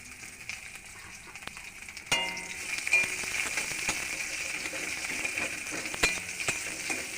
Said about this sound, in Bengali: পেঁয়াজগুলো একটু লাল লাল করে ভেজে নেব।